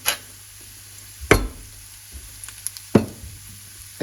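Arborio rice toasting in a pan for mushroom risotto, a quiet low sizzle punctuated by two sharp spoon-on-pan clacks and a few lighter scraping taps.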